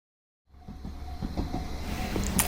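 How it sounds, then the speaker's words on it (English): Small toy-like rainbow train running, rising from silence into a steady rumbling clatter that grows slightly louder, with faint hiss and no voices. "And this is a small rainbow train."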